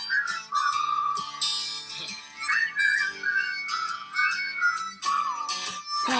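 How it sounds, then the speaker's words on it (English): Bright, wavering whistled melody carried over a soft musical backing, rising and falling in pitch for several seconds without pause. "Whistle!"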